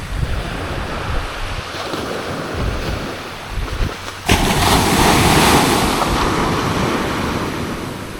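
Sea waves crash and roll onto the beach at Mullaitivu, Sri Lanka, with a loud, continuous roar and wind buffeting the microphone, surging heavier midway through.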